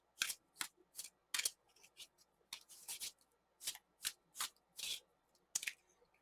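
A new deck of tarot cards being riffle-shuffled, a dozen or so crisp papery bursts in quick irregular succession, close and clear with quiet gaps between.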